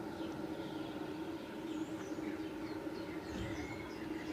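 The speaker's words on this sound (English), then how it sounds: "can you hear the birds singing?" Faint birdsong chirps intermittently above a steady low rumble of background noise at Bourtange, a Dutch fortified citadel.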